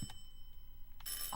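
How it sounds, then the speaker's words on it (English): A doorbell rings with two bright, metallic chimes, one short tone at the start and a longer ringing tone near the end, heard fairly near and alone without talk. "that's my doorbell"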